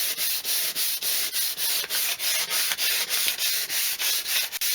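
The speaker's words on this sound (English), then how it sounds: "It's just a little bit wet and dry. I'm going to sand these back." Wet and dry 400 grit paper is rubbed by hand across a leather Toyota Gen 7 Celica car seat, making about a dozen rhythmic, evenly spaced scratchy strokes, close and alone.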